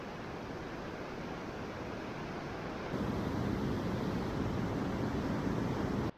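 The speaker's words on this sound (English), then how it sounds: "Dinwoody Creek is absolutely raging." Dinwoody Creek in Wyoming's Wind River Range runs raging high with glacial runoff, a steady broadband roar of rushing water that grows louder partway through, with no talk over it.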